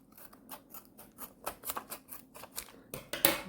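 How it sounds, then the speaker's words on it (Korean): Scissors snipping through the front panel of a postcard, a run of quick, close, crisp cuts in an uneven rhythm that grows louder toward the end. "이 앞판은 가위로 오려서"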